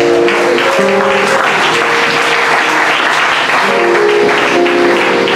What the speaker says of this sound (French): Acclamons Jésus pour ça.